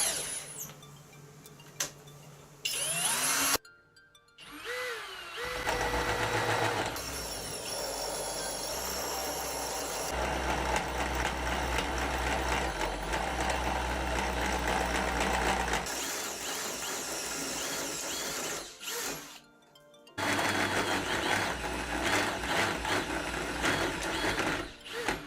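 A tube notcher in a home workshop runs with a steady, loud power-tool whine and grinding drone, briefly stopping and restarting a few times before running on again; no talk.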